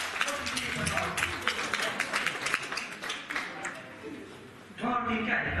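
Applause and cheering break out for an award winner at a Hungarian graduation ball, a busy crowd din mixed with voices that fades, then a fresh burst of people talking near the end.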